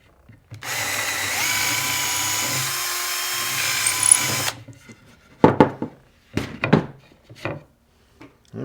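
Power drill with a 3/16 bit boring into wood during a stripped wood screw repair, a loud continuous whine with a pitch dip midway, then stopping, followed by several sharp knocks and handling clatters.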